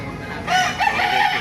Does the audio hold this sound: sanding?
no